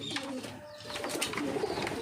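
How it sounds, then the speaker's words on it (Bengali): Bali pigeons coo softly at close range, a few low, throaty calls repeated over a quiet background. "এই যে বালি পায়রা"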